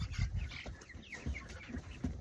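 Young olive egger chicks with little crests chirp and peep steadily in a new roomy pen, a busy cluster of high calls close by with no talking.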